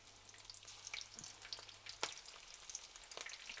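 Prawns frying in hot oil, a soft steady sizzle with scattered crackles and pops throughout, fairly faint and without talk.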